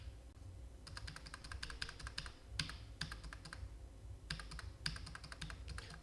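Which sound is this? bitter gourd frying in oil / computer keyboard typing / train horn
computer keyboard typing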